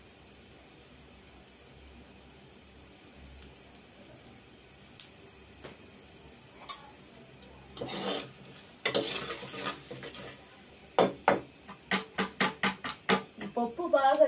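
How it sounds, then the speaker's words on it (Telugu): Onions and asafoetida fry in a pan for drumstick-leaf dal while a spoon stirs them. Soft sizzling runs underneath, and scraping strokes grow louder and quicker toward the end, forming a close, rhythmic series. "ఉల్లిగడ్డలు బాగా వేగిపోయిందండి. ఇప్పుడు తూలు ఇంగువ ఇప్పుడు కొద్దిగా వేసుకుందామండి."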